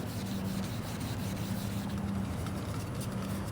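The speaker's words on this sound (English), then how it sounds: "you want to just sand this down" A plastic car headlight being wet-sanded, a steady close rasping rub repeating in quick back-and-forth strokes for a few seconds.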